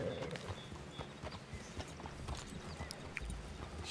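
Horse hooves clip-clopping at a steady gait in the video game Red Dead Redemption 2, a fairly quiet rhythmic run of thuds over an ambient outdoor game background.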